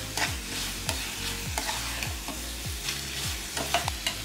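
Ghee-roasted cashews tipped into puffed rice pongal as a spoon stirs the pot, giving a soft steady sizzle with regular scraping strokes about every half second, close and fairly quiet with no talking.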